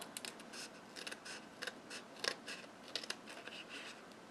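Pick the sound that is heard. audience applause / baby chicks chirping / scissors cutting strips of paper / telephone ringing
scissors cutting strips of paper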